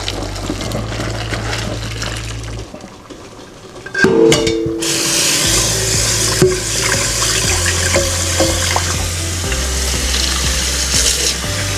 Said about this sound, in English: Okay, so our spaghetti is actually done, so I am going to drain it. Okay, I'm going to drain it into the strainer.